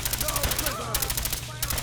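Rapid gunfire from Fallout 4 gameplay, a steady run of loud repeated shots filling the whole stretch, with game effects layered beneath.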